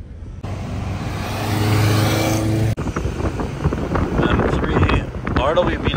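A Ferrari Speciale Aperta supercar drives along a street during Monterey Car Week. Its engine note swells loud and close for a couple of seconds and then cuts off, followed by wind buffeting and rougher mechanical noise.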